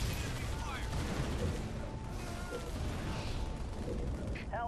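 Battle gunfire in the video game Halo Wars, a steady wash of distant shots and explosions under faint unit voice chatter, with a sharper burst near the end.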